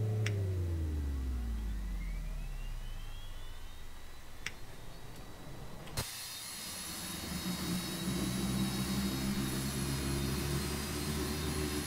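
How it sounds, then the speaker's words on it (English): A Saab 340A's right turboprop engine starts in the X-Plane 11 flight simulator, a low whine rising over the first seconds, then a sharp catch near the middle as the propeller noise swells into a loud, steady drone. "And let's go ahead and start the right engine."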